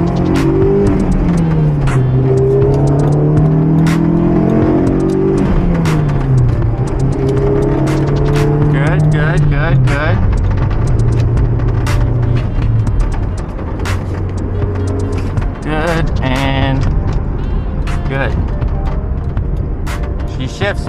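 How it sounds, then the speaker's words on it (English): A Honda S2000 with a manual transmission revs up and shifts through its gears, the engine note climbing and dropping between shifts, loud and close from inside the car with no talk. "Just gonna shift through all the gears real quick, make sure everything's good to go"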